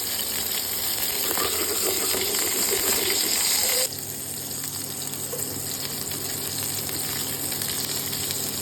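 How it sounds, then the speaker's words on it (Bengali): Steady sizzling of paneer frying in hot white oil, a continuous crackling hiss that drops slightly in level partway through, with no talking. "তেল গরম হলে তারপরে দেবো পনিরটাকে আমরা লাল লাল করে ভেজে নেবো"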